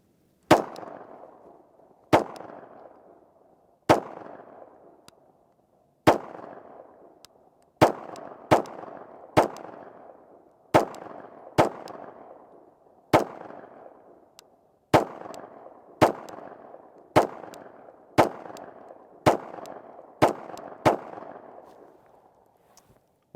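Brugger and Thomet TP9 firing a string of single rounds, loud sharp reports spaced about a second apart with ringing decay, some quicker pairs toward the end, no talk.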